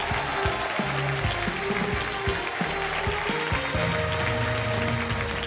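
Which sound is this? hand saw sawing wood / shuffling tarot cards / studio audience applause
studio audience applause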